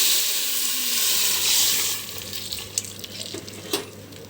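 Dal tempered with hot spices gives a sudden loud sizzle in the pan that hisses for a couple of seconds and then settles into lighter crackling and a few sharp spatters, close up with no talking.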